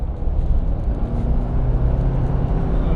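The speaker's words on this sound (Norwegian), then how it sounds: "Men jeg hører at det en 4-sylindret motor." A Jeep Wrangler Rubicon 4xe plug-in hybrid with a turbocharged four-cylinder engine accelerates, giving a steady, loud engine drone and road roar that holds even for several seconds with no voices.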